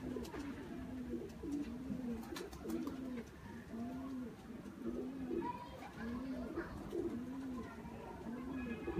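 Teddy pigeons coo in a steady repeating rhythm, soft rolling calls close by with a few faint higher chirps in the background.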